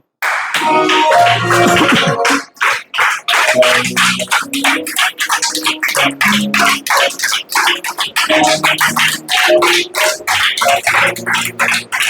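A church congregation claps and cheers in praise, steady loud clapping mixed with music and shouted acclamations, continuing without pause throughout.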